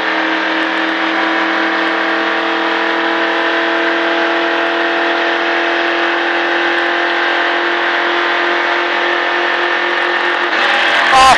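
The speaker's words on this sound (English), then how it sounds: "On the gas. Accelerating out." A NASCAR stock car in a Richard Petty driving experience accelerates hard on track, its engine roaring loud and steady in a sustained rising drone throughout, with a brief change in tone at the very end.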